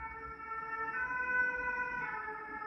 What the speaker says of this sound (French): on a laissé passer la sirène